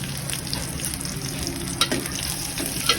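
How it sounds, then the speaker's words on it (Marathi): Onions sizzle steadily in a pan with green chillies for a Kokani-style chicken curry, a continuous close frying crackle with a couple of brief stirring clinks and no voices. "कांदा पण टाकून आपल्याला भाजून घ्यायचा आहे कांदा."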